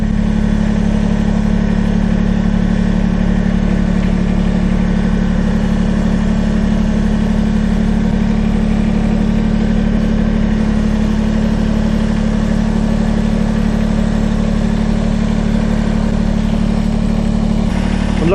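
Steady, close engine drone from a Kubota BX23s compact tractor with LA340 loader as it creeps slowly forward, unchanging and loud for the whole stretch with no voices.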